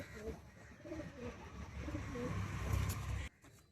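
Pigeons of the Madrasi high-flyer type coo in a loft, soft repeated low calls layered over a busy background hum that builds toward the end, then drops away abruptly.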